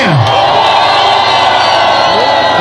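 A large crowd shouting and cheering loudly and continuously, voices blending into a dense roar like a packed concert audience.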